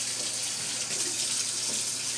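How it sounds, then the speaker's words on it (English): Water runs steadily from a kitchen tap into a sink, a continuous close hiss that holds at an even level throughout, with no voices over it. "I'm about to get me some water going so I can clean this mess up real quick."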